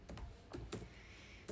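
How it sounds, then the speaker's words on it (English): Quick taps on a computer keyboard while a name is typed, a few soft clustered keystrokes close by, quiet and brief. "so I will just type my name"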